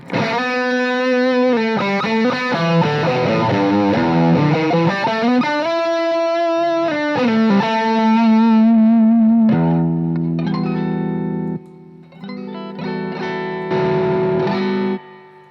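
Electric guitar through a wah pedal with the volume cranked into heavy overdrive, sweeping vowel-like tone over sustained, distorted notes and bends, loud and close, ending in choppy bursts with brief gaps and no talking.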